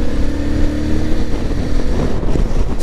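A Suzuki V-Strom 650 XT motorcycle engine drones steadily while riding in sixth gear, loud and close, with wind buffeting the microphone and no talk.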